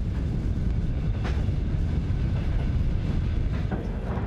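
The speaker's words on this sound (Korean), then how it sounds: "드디어 열차는 블라디보스토크를 떠나 모스크바를 향해 출발하고" A Trans-Siberian train pulls out of Vladivostok bound for Moscow, its steady low rumble of wheels on rail holding throughout with faint clacks and squeals rising now and then, close and continuous, with no voices.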